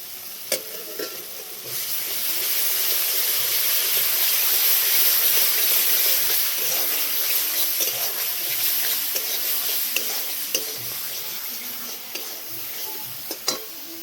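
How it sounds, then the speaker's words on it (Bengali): Spice masala fries in a pan with a loud, continuous broadband sizzle and hiss, a few faint scrapes and taps of stirring scattered over the steady frying noise. "এবার সুন্দর করে মশলার সঙ্গে ভেজে নেব"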